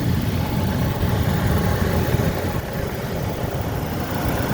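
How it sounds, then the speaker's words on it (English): A 2008 GMC Canyon engine idles steadily at a dealership, a continuous low rumble that holds even and moderately loud with no revving. "I've got the vehicle running, so you can hear probably the engine in the background"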